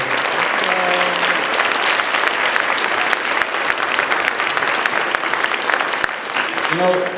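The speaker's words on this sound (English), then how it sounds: "Let's give them another round of applause for all their hard work." Sustained audience applause for sixth, seventh and eighth grade band students at a district band concert, steady, dense clapping filling the room for several seconds, with brief tonal notes at the start and end.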